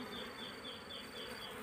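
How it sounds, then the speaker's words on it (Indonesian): Wild Asian honey bees (Apis cerana) buzz in a dense, continuous swarm drone with a steady pulsing whine, close and unbroken throughout. "Pemindahan tawon, guys, ke kotak budidaya."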